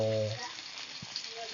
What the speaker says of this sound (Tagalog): bawang, saka luya sa ginisa natin sa butter